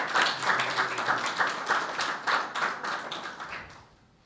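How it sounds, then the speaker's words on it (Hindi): A church congregation at a Palm Sunday meeting claps loudly and steadily together, rhythmic applause filling the room before fading out at the end. "यीशु के लिए तालियां बजाएं जोरदार।"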